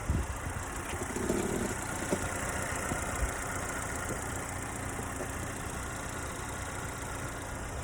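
A parked car's engine idles at close range, a steady low rumble with an even drone and no break, fairly quiet and alone without talk.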